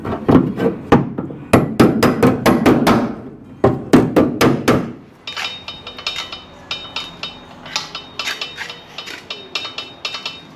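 A metal panel for a chopped-top 1936 Ford is hammered over a pipe anvil, starting with loud ringing blows in quick irregular bursts and then moving to a faster, lighter run of tapping strikes.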